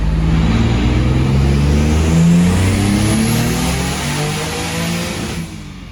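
A Nissan 300ZX with a VQ35DE engine revs hard and loud close by, the tone climbing steadily and then stumbling and breaking up near the top of the rev range before easing off.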